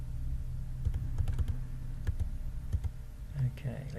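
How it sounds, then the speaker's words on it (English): Typing on a computer keyboard while entering text into a Google Classroom document: a run of crisp, close key clicks in uneven bursts over a low steady hum, with faint talk at the end. "let's just type something in"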